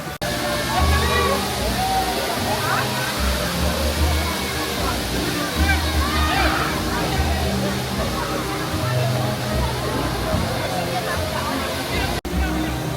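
Water effects on the Wellenflug wave swinger ride at Phantasialand, heard as a steady, loud rush of splashing and falling water with a crowd murmuring beneath it throughout.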